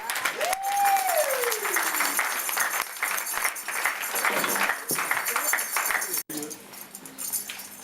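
Church congregation at an Assemblies of God service applauds and cheers, with clapping and voices calling out throughout, a rising vocal whoop near the start, and the noise briefly cutting off before resuming.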